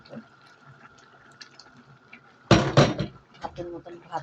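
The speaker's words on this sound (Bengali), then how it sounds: "পানি দিব।" Hot water poured into a cooking pot of rice, a sudden loud gush of liquid that starts partway through and continues in splashy bursts, following quieter kitchen background with faint voices.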